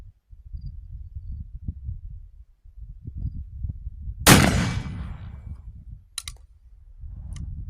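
A single loud blackpowder shot from a Gemmer 45-90 cartridge rifle, loaded with 1F GoX and a light smokeless duplex charge, cracks midway through low wind rumble, followed by a couple of faint distant clicks.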